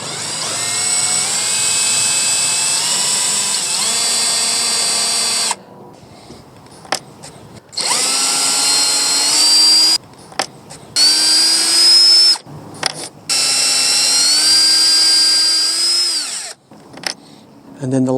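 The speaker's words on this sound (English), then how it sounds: "Obviously we're going to use our drill in reverse," A power drill runs in reverse, backing screws out of the third brake light on a Ford F-150. It whines in three long, loud bursts that rise in pitch, with short stops and brief blips between them.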